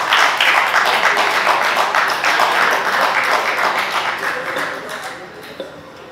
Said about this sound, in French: S'il vous plaît, applaudissez pour ça.